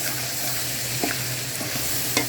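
Salted onions fry in a pan for chili chicken, giving a steady close sizzle broken by several short scraping stirs, with no talking.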